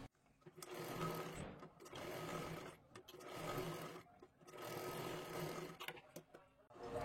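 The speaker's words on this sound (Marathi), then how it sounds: "आता इथे पूर्ण कडेला एक शिलाई मारून घ्यायची आहे" A sewing machine runs a stitch along the edge of a blouse sleeve in bursts of steady whirring, pausing briefly between runs, close and clear with no talk.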